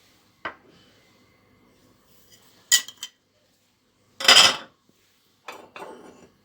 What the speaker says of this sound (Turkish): bütün malzemelerimizi döküyoruz ve harmanlıyoruz hepsini.